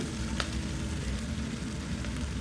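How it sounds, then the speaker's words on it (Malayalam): Sliced onions sauté in hot oil for a potato curry, giving a continuous dense sizzle with a faint spoon scrape or two as they are stirred. The cooking is close and nobody speaks. "സവാള ഒന്ന് ഇളക്കി പച്ചമണം മാറുന്നത് വരെ ഒന്ന് ഇളക്കുക"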